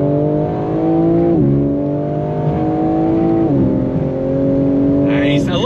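A 2022 BMW M4 Competition accelerates hard from inside the cabin, its engine note climbing steadily then dropping sharply at each quick upshift, two clear gear changes heard in a loud, continuous pull.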